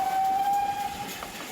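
A heritage steam train lets out a long, steady whistle over the rumble of the moving train, loud and close, and the whistle trails off near the end.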